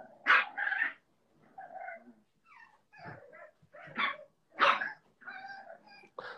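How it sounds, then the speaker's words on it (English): Dogs bark and yelp in loud, close bursts, about eight barks over several seconds with brief whimpers between them. "let me go get the dogs"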